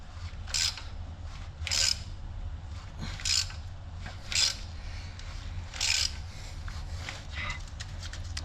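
A wrench works on a stubborn crankshaft bolt, giving several separate rasping, grinding creaks spaced a second or so apart, fairly faint and close, with a low steady background hum.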